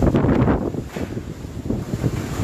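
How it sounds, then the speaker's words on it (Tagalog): Super Typhoon Goni (Rolly) in Naga City: strong typhoon wind buffets the microphone in loud, gusting roars, with no voices. "Malakas ang hangin dito sa location namin"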